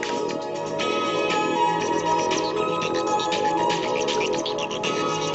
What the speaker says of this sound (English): I'm going to play a song.